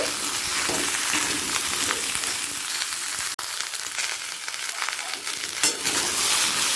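Radish, egg and brinjal sizzle and crackle steadily in a hot pan, with occasional stirring scrapes and a sharp clink partway through.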